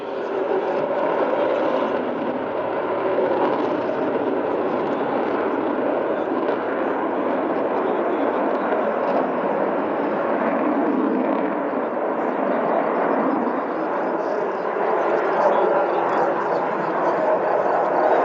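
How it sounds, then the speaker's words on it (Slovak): MiG-29 fighter jets in formation break apart overhead near Piešťan, a steady, loud broadband jet roar that holds without pause throughout, with no voices over it. "A práve vidíte efektný rozchod roja lietadiel MiG-29 do tzv. VR-a."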